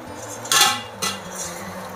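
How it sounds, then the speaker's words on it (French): A saucepan of asparagus risotto is shaken back and forth on the stove, giving two short scraping swishes of rice against metal over a faint low hum. "on va simplement donner un petit mouvement"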